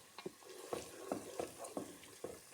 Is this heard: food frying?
yes